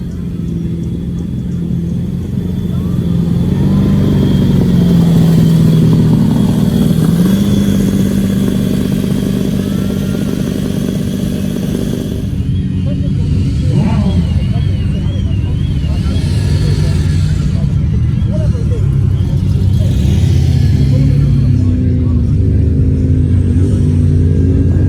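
A Lamborghini Diablo SE30 supercar with over 630 brake horsepower revs at the London Concours 2024, a loud, deep engine roar that swells and dips through repeated throttle blips, with voices in the background.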